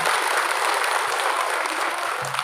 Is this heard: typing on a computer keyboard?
no